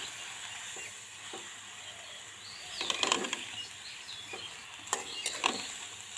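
Pumpkin leaf greens (chal kumra shak) tossed and stirred in a pan in a village home kitchen, with a low steady sizzle and a few louder scraping bursts near the middle and end, no talking.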